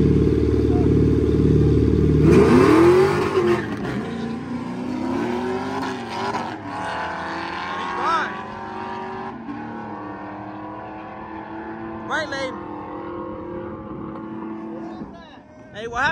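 A broken-down race car being driven off in D at a street-racing event, starting with a loud engine drone that gives way to rolling clatter and mechanical noise, with people shouting and talking over it throughout.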